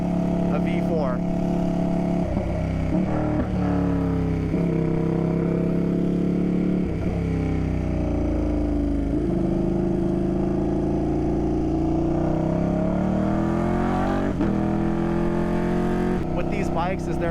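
A Ducati Panigale V2 motorcycle engine revs up and down through its power band, a steady loud mechanical drone with rising and falling pitch sweeps, while someone talks over it throughout.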